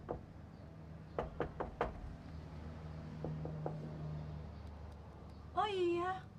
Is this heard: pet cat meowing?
no